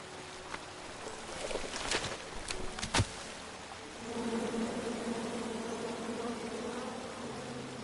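Angry bees buzzing from a tree in the video game King's Quest, a steady droning hum under a few sharp thuds and clicks early on, with the buzz swelling louder and denser partway through.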